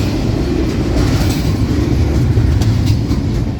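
A CSX freight train with two pusher locomotives at the rear rolls past close by, a loud continuous rumble and roar of wheels on rail with a faint clickety-clack texture throughout.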